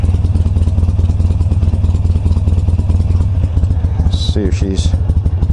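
A 2005 Harley-Davidson Sportster 883 Low idles close by with a loud, steady, lumpy rumble. Someone talks briefly over it near the end.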